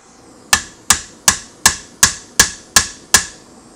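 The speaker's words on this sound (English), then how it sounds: "I'm just dropping a hammer on it" A hammer is dropped lightly onto a rivet in a Browning 1919 side plate, giving eight sharp metallic taps at an even, unhurried rhythm, each ringing briefly, close and alone.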